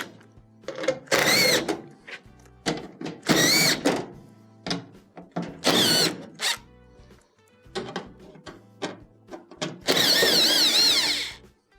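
A power driver backs quarter-inch screws out of the back plate of a GE dryer in a series of short whirring bursts, several in a row, with quiet handling between them and one longer run near the end.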